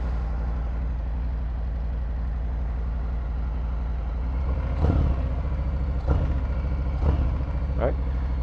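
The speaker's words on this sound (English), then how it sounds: "Those pipes sound awesome." A Harley-Davidson Fat Bob motorcycle rumbles steadily at close range through its exhaust pipes. A few sharp throttle blips punch out above the idle, with speech faint in the background.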